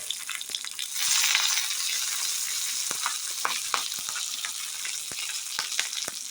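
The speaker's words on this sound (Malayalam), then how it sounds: "എണ്ണ ചൂടാകുമ്പോൾ കടുക്, പിന്നെ വറ്റൽമുളക്, കറിവേപ്പില ഇതൊക്കെ ആഡ് ചെയ്തിട്ട് ഒന്ന് ഇളക്കി കൊടുക്കുക" Mustard seeds, dried red chillies and curry leaves crackle and sizzle in hot oil for a Kerala drumstick-leaf thoran, with a steady close frying hiss and scattered sharp pops and spatters throughout.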